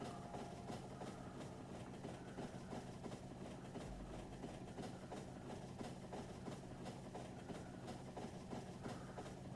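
Train running in the video game Factorio, a faint continuous rumbling rail drone with steady low engine noise and no talking.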